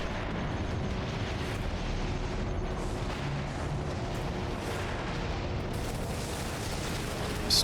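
Dense, continuous rumbling blasts and booms of plasma grenade explosions in Warhammer 40,000: Space Marine, a thick sustained roar of combat with no clear gaps between detonations.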